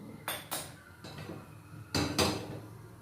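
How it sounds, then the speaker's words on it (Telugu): Metal kadai set onto a kitchen stove before frying bajji: a few sharp clanks and clinks in two clusters, close and clear over quiet room tone. "ఫస్ట్ స్టవ్ ఆన్ చేసేసి కడాయి పెట్టేస్తాను."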